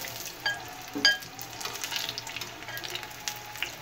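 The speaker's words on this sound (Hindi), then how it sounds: "लो फ्लेम पे हम इन्हें फ्राई करेंगे ताकि मिर्च हमारी अंदर तक गल जाए" Batter-coated green chili pakoras in gram flour bubble and crackle in hot oil on a low flame, with a soft, steady sizzle punctuated by a couple of louder pops and spatters.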